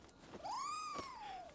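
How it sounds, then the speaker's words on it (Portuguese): Cat meowing in the video game Nioh 2: a single drawn-out, rising then falling meow, clear and fairly close, with no talking. "Tem um gato."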